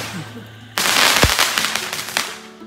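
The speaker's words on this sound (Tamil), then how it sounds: "இப்ப பாருங்க, என் ராக்கெட் நிலாவுக்கே போகுது." Cartoon-style rocket firework launches at a school Diwali celebration: a sudden loud hissing whoosh bursts in and holds with crackling pops, after a quieter opening.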